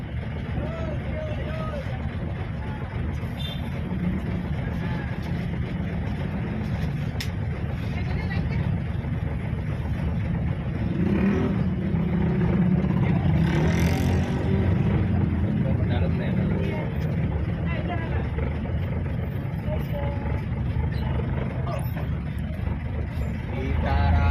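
A city bus driving along Jalan Raya Dramaga in Bogor, a continuous low engine and road rumble heard from inside, swelling slightly midway, with passengers and a conductor talking over it.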